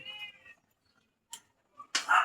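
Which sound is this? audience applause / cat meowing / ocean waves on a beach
cat meowing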